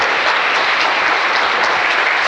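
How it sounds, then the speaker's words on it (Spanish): A church congregation in Tampico applauding loudly, a dense, sustained wash of many hands clapping at full volume with no voices over it. "Dale un aplauso fuerte."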